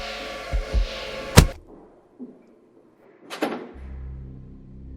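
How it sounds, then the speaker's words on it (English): Old storage warehouse door pushed shut with a sharp bang, then a second heavier slam a couple of seconds later, set against low rumbling ambience and a droning background. "I rushed inside and closed the door."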